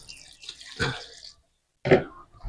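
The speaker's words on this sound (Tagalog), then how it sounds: "Ngayon, ilagay natin ang ating natitirang tubig." Water poured from a container into a bread dough mixture of flour, skim milk and baking powder, giving two short splashing, gurgling pours separated by a brief pause, close and fairly quiet.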